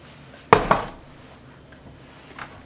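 A teaspoon dropped into a sauté pan gives a single sharp metallic clink with a short rattle as it settles, close and fairly loud against a quiet kitchen.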